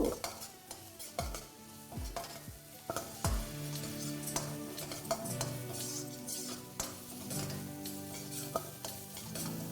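Garlic, ginger, green chili and the white part of spring onion fry while being stirred, quiet sizzling under frequent metallic clanks and scrapes of a spatula against the pan, close and without speech.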